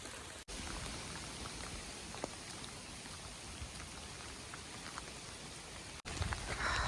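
Steady, dense rainfall in the Smoky Mountains patters on surfaces, a constant hiss with scattered louder drops, heard alone without voices.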